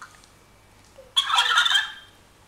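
A turkey gobbles once, a loud, quick, warbling burst of calls played as an animal sound on a toy or device, with faint background hiss and no talking.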